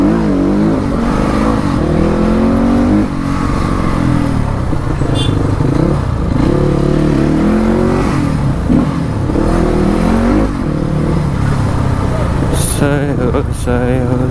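A motorcycle engine runs loud and close, revving up and down in repeated surges while people talk over the steady roar.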